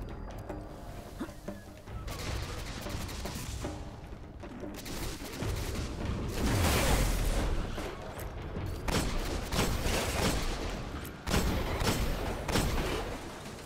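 Rapid automatic gunfire from the player's weapon in the Destiny video game, The Taken King, during a solo Winter's Run Nightfall strike, sustained loud bursts mixed with heavy impacts and explosions for several seconds.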